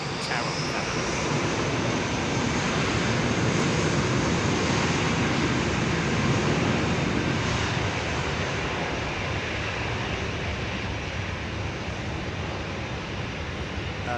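An Etihad airliner comes in to land at London Heathrow, its engines and airflow producing a loud, sustained broadband roar that holds steady for the whole stretch with no voices over it.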